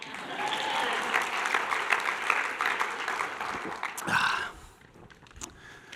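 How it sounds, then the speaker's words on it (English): A live speakers' showcase audience keeps up steady, moderately loud applause for about four seconds before it dies away into a quieter room. "Yes, you're all supposed to be clapping."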